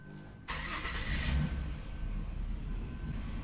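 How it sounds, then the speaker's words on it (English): A car engine cranks and catches, then settles into a steady, moderately loud idle; the vehicle is being checked for a blown head gasket. "So let's go ahead and get this vehicle started."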